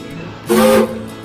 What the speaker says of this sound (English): 1 toot on the whistle.